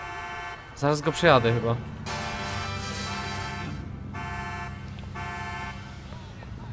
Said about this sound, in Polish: To mi włączył alarm w aucie.